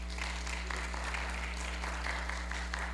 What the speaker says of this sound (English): can we give a round of applause for all the members of Las Novias Society